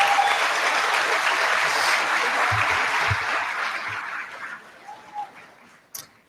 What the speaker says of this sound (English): Give the girls a clap, please.